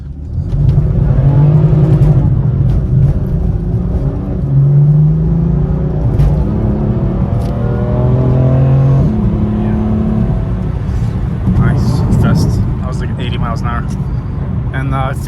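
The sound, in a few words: 2019 BMW M4 engine accelerating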